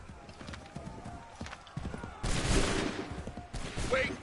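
A musket volley erupts in the video game Assassin's Creed III, a dense crackling burst of shots following a quieter stretch of scattered thuds and rustling.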